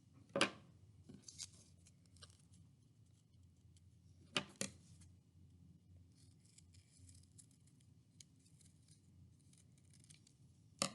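Scissors snipping small paper eyes for an owl craft, a few crisp separate cuts spaced several seconds apart in a quiet room, with faint rustling between them.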